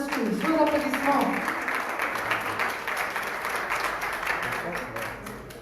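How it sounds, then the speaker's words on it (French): An audience applauds as the founder of a women's school is called up to an event stage. The clapping is broad and steady, with a voice briefly audible at the start before the applause carries on. "Sous vos applaudissements"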